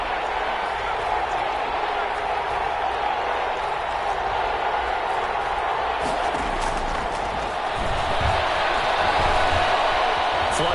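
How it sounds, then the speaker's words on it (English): Steady stadium crowd roar inside the Dome during a PS4 football video game, a constant broadband din near halftime with slight swells toward the end, sitting under broadcast-style commentary. "The crowd here in the Dome making things difficult."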